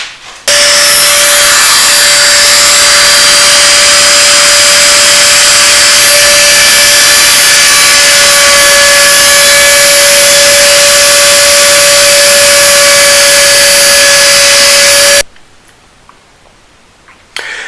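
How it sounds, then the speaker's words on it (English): A router cuts an inlay design into a wooden guitar fretboard. It gives a loud, steady high-pitched whine that runs unbroken for about fifteen seconds and then stops abruptly, leaving quiet room tone. "The design has been routed into the fretboard"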